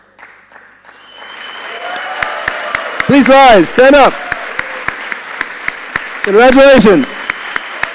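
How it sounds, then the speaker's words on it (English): A graduation-ceremony crowd breaks into two loud bursts of applause for capstone project winners, close and full. A voice on a PA speaks over the room before and between the claps, and a steady ticking runs through. "Let's give them a round of applause."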